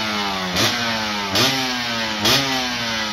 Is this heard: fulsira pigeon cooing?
no